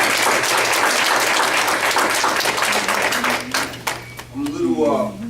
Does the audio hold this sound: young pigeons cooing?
no